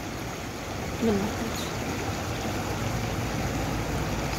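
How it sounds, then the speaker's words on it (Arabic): Spring water pours out of rock in the Todgha gorges, a steady broadband rush of flowing water heard close, with a brief voice speaking over it near the start. "شوف شوف كيخرج الماء منا"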